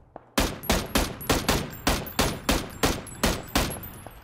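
Rapid gunshots in PUBG, about eleven loud, sharp reports in a quick evenly spaced string, each with a short decaying tail, close and alone with no talk.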